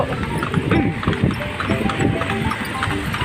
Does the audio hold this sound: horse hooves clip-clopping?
yes